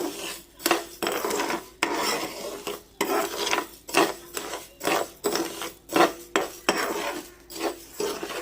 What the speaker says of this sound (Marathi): आपली साखर थोडी थोडी मेल्ट होतीये आणि या पद्धतीने आपण पूर्ण हलवून घेऊया साखर, कारण ती चिकटते पॅनला